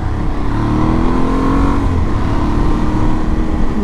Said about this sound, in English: Mental the amount of cars about.